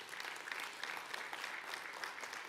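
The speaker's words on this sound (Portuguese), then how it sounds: "Aplauda o Senhor." A church congregation in Curitiba applauds during a sermon by Pastor Wavison Salgado, an even stream of clapping heard faintly and from some distance, with no voices over it.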